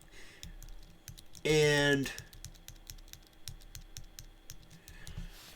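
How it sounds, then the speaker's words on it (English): Rapid computer keyboard clicks tap away in quick irregular bursts, close and crisp, briefly interrupted by a short spoken word before the typing resumes. "sorry, I'm typing on my keyboard"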